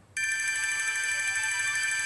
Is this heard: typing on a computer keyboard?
no